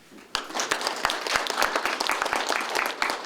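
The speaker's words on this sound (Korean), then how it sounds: "다시 한번 우리 김용택 선생님께 큰 박수 부탁드립니다" Audience applause at a Korean award ceremony for the Halla Ilbo New Spring Literary Contest, bursting in suddenly and continuing as dense, steady clapping from a crowd throughout.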